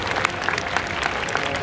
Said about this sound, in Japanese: 拍手してるみんな、すごいすごい